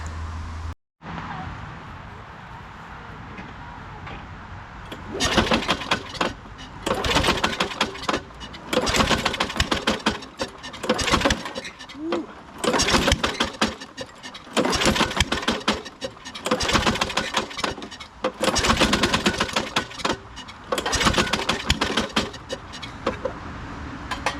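A 1998 Ariens 21-inch self-propelled lawn mower with a flathead engine and a suspected stuck valve runs roughly, surging and sputtering in uneven bursts, loud and close, with brief dips between revs.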